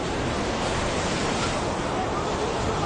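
Floodwater from a glacier lake outburst in Nepal rushes past in a continuous loud, broadband roar, like heavy surf or wind, with no breaks.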